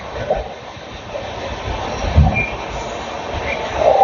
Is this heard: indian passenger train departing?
yes